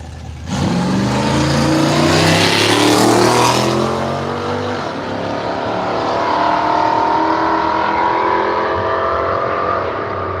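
Drag racing cars launch at Willowbank Raceway in Australia, their engines roaring loud and close as they rise in pitch through the gears, then fading away down the strip under a sustained engine drone.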